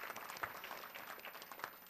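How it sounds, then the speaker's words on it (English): A round of applause rises from the audience at a student awards banquet, a steady, even patter of many hands clapping at moderate distance and fairly soft, with no one speaking over it. "And let's give her a round of applause,"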